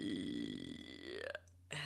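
A single long, low burp rumbles close and loud, its pitch sliding upward before breaking off, followed by quiet.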